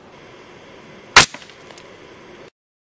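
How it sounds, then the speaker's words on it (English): A frozen Oreo fired from a rubber-band gun with doubled rubber bands into ballistic gelatin gives one sharp, loud snap followed by a few faint rattles, then quiet. "Next, we're gonna shoot an Oreo into ballistic gelatin"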